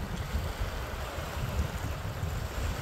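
Sea waves on the Cyprus coast, heard as a continuous broadband wash of surf with low rumbling and some wind noise, steady and fairly close, with no voices.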